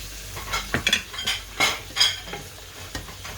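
Tilapia going into a pot of okra stew, with a soft sizzle and several close utensil stirs and scrapes in uneven bursts, no voices.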